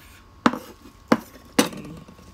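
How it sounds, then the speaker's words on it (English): A chopping knife strikes a cutting board through fresh cilantro, three crisp, evenly spaced chops with quiet pauses between them. "So we are going to chop this. I'm using a chopping knife."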